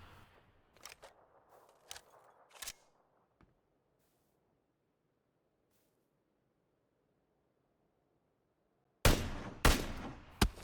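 Sharp gunshots in the video game PUBG, several scattered cracks early on, then a long silence before a loud cluster of close shots near the end.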